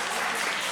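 A packed professional wrestling crowd at a Ronin Rumble Super Shogun Wrestling show roars and cheers in a dense, steady wall of noise with scattered applause, with no break across the short stretch.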